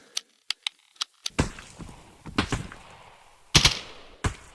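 Sharp gunshots in the video game Contractors Exfilzone, a few single cracks followed by heavier bursts, close and loud with no talking.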